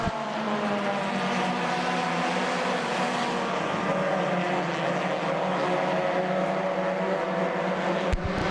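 Race cars roar together out of turns 3 and 4 at Port Royal Speedway, a dense, sustained engine drone with layered pitches from several cars running side by side, loud and continuous.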